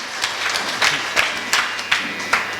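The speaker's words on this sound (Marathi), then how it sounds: "जरा मोकळे मानाने टाळी वाजवून" Scattered hand claps from an audience at a Marathi devotional kirtan discourse, several sharp bursts spaced about every half second, fairly close and moderately loud, with a faint murmur of voices behind.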